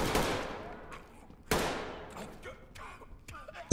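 Gunfire in a firefight during a hostage-rescue raid on a hospital in the video game Ready or Not: two sharp, loud shots about 1.5 seconds apart, each ringing and decaying, then scattered fainter pops and clatter and a final sudden blast.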